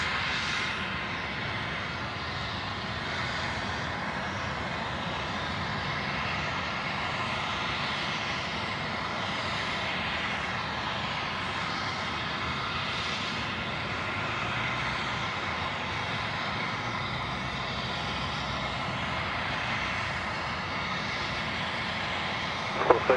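Airliner going around at Sydney Airport, a steady, sustained jet engine roar at moderate distance, continuous without pause and with no talk.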